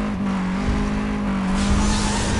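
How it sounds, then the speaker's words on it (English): A car engine in Need for Speed: World revs hard at a race start, a loud steady drone with tire noise rising toward the end, no talking over it. "I over-revved when I started"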